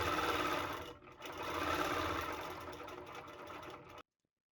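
Longarm quilting machine stitching an appliqué quilt at true working speed, a steady loud mechanical whir with a brief dip near the start, stopping abruptly into silence at the end.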